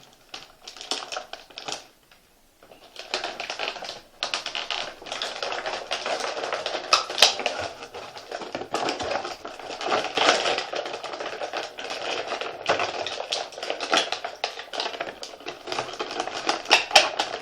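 Crinkling and snapping of stiff plastic packaging as Masters of the Universe Classics action figures are pulled free, a busy stream of close clicks and rustles after a brief pause.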